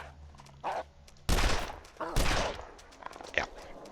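Revolver gunshots in The Long Dark, a few sharp, loud reports spaced apart over a few seconds among quieter scuffing and movement sounds.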